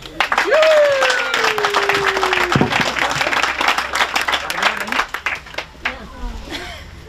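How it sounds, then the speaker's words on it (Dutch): A crowd breaks into loud, sustained applause for the team at an opening event, dense clapping that gradually thins out, with a voice speaking over the start. "een applaus, denk ik, voor het hele team en voor degenen die het allemaal hebben gerealiseerd"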